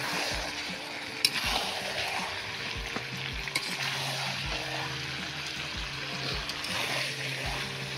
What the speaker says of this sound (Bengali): আর চিকেনটাকে এখন পুরো ভালো করে কষাতে হবে।